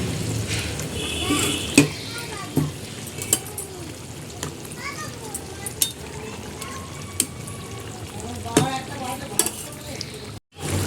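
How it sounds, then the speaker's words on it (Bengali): Fish curry gravy bubbling in a pan as pieces of fish go in, a steady close simmer and sizzle with occasional stirring scrapes and utensil clinks. "ঝোলটা ফুটে গেছে আমি এখানে মাছগুলো অ্যাড করে দেবো"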